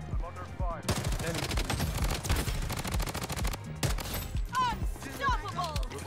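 Gunfire in the mobile shooter Bloodstrike, with sustained rapid automatic shots from an MP5-style weapon followed by scattered bursts and game effects, loud and dense throughout.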